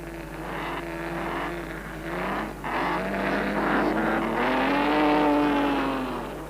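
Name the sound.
Alfa Romeo racing car driving into the pits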